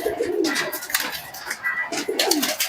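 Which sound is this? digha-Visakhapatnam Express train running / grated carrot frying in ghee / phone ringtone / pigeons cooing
pigeons cooing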